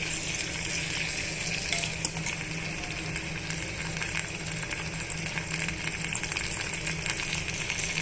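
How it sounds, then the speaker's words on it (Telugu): Chutney ingredients, green chillies and tamarind, frying in oil in a pan on the stove for dhaba-style tiffin chutney, a steady close sizzle with faint stirring throughout. "ఇలా బాగా ఒక ఫైవ్ మినిట్స్ వేయించుకోవాలండి"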